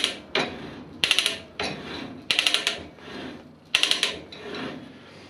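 A hand ratchet drill cutting into a worn pin hole on a metal machine chassis: repeated bursts of quick clicking ratchet strokes alternate with grinding rasps of the bit, close and fairly quiet, with no talking.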